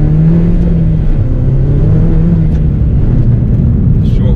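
A custom MINI JCW GP2 rally car accelerates hard through short gear ratios, its engine droning loud and close in a steady, continuous roar that rises and dips slightly with each shift.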